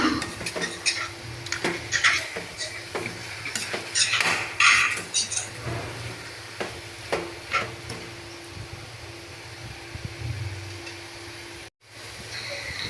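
Mutton being mixed with salt and turmeric in a pot, with repeated clattering and scraping of a spoon against metal in an irregular rhythm, close and fairly loud, ending in a brief pause.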